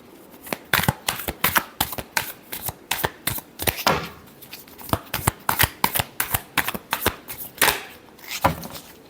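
Tarot cards shuffled by hand in a long run of quick riffling bursts, close and crisp, with brief pauses between them.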